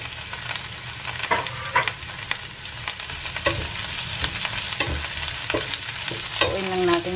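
Carrots and broccoli for pancit bihon stir-fry in a hot pan, with a loud, close sizzle and repeated scraping and tossing strokes, with no voices.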